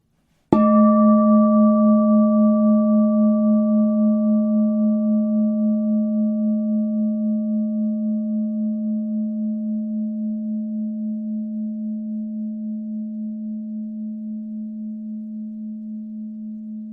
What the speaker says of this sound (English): Hear the sound of the bowl now.